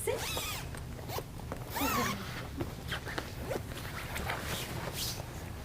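A large zipper on a pet bed's removable cover is pulled open in several quick rasping runs, close and loud, with rustling fabric between the pulls.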